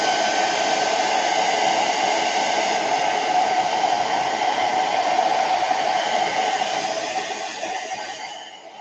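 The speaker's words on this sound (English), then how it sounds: "I'm going to hit this with a blow dryer" A hair dryer drying paint on canvas blows steadily at close range with a loud, constant whooshing roar that fades slightly near the end.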